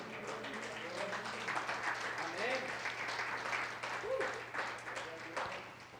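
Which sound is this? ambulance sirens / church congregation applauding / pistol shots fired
church congregation applauding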